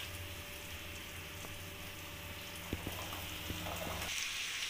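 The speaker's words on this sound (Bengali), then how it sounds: "এবার আমি সিদ্ধ করে রাখা চানাটা দিয়ে দেবো।" Boiled chickpeas drop into a pan of sizzling fried spice masala, a steady close frying hiss with a few soft clicks and stirring knocks, the sizzle brightening toward the end.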